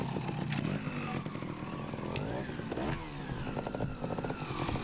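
A trials motorcycle engine revs and buzzes steadily at close range, with clattering and scraping mixed in as the bike works through a section at a youth trials event.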